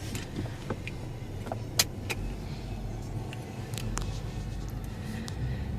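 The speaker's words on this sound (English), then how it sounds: "We're gonna pull out of the dealership and make a right-hand turn." Mercedes-Benz GLE350 pulling out of a dealership lot at low speed, a steady low engine and road rumble inside the cabin with a few faint clicks and knocks, no talking.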